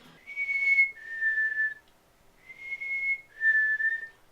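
Two pairs of clear whistled notes, each a higher tone dropping to a slightly lower one, imitating a chickadee's call, with a pause between pairs.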